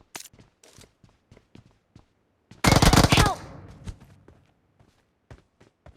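Gunfire in PUBG Mobile bursts out as a loud, dense volley of rapid automatic shots lasting under a second, surrounded by quieter scattered single shots and footsteps.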